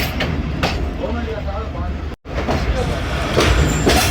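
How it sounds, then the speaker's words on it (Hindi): Passenger train pulling out of Langar railway station on the ML-2 line: a steady, continuous rumble of rolling stock with faint rhythmic clatter, fairly close and filling the whole stretch, with a brief dropout midway. "ट्रेन हमारी दोबारा लंगर रेलवे स्टेशन से निकल रही है"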